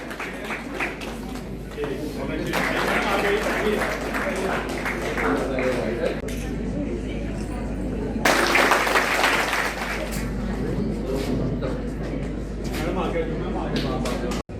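At a school achievers' award ceremony, an audience claps for parents and grandparents coming on stage in two long waves of applause. A low electrical hum from the sound system runs underneath, with a brief lull between the two rounds.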